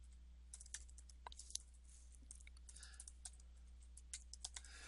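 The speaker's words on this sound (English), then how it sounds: "I'm sorry that this isn't very interesting to watch me type" Typing on a computer keyboard while working in Microsoft Word: irregular, close, light key clicks with small bursts and pauses over a low, steady hum.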